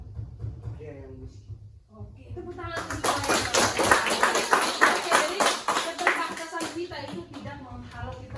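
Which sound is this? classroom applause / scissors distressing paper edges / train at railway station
classroom applause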